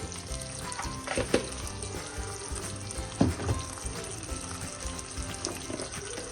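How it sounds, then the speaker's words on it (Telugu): Green chillies fry in a pan for a chilli chutney, giving a steady crackling sizzle at close range with a few louder pops along the way. "పచ్చిమిరపకాయలు వేగినాయమ్మా."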